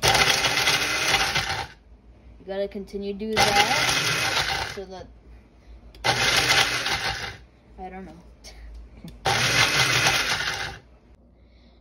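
Blender grinding chili ingredients in four loud, broadband bursts of about two seconds each, with short gaps between them where a person talks.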